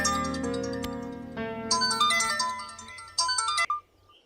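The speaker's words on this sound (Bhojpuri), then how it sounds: "तोहार फोन बजत बा।" A mobile phone ringtone plays loud and close: a bright melodic electronic tune of stepped chiming notes, shifting pattern midway and cutting off abruptly, with no talking over it.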